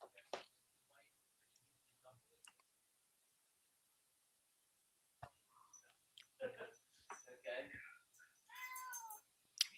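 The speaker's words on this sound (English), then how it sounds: "You can hear my cat meowing at me in the background." A cat meows several times at moderate distance in a quiet room, the calls drawn out and plaintive, separated by stretches of near silence.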